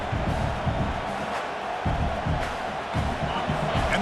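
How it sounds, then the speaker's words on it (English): Broad roar of a stadium crowd cheering in a video game, a dense wash of voices swelling and dipping in waves, loud and continuous. "this crowd coming to life here, trying to help the defense get a stop"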